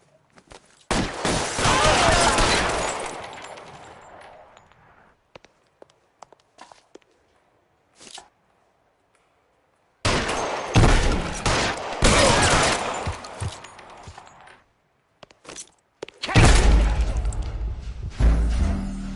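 Gunfire in the detective video game LA Noire, heard as several loud, dense bursts of shots separated by near-silent pauses and a few isolated thuds.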